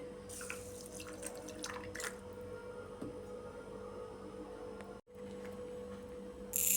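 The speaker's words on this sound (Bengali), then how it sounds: "একটা বাটির মধ্যে কাজু বাদাম সাদা তিল জল দিয়ে ভিজিয়ে রাখছি" Water poured over cashew nuts and white sesame seeds in a bowl in a home kitchen, a steady close trickle and splash running for several seconds, with a brief pause near the end.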